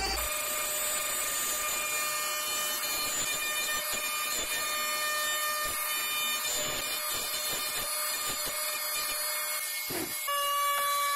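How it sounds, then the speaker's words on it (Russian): A wood router cutting a circle into an offcut board, a loud continuous high-pitched whine with scattered bursts of cutting noise as the bit bites the wood, running throughout; no voices. "При помощи фрезера и фрезы выбираю окружность."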